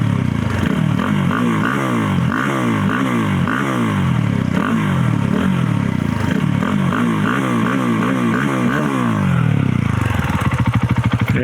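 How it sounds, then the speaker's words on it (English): A modified KTM 690 Enduro R motorcycle engine being revved repeatedly, with several rising and falling throttle blips over a rough idle, loud and close, and a mechanical clatter near the end. "And now let's give it a few revs."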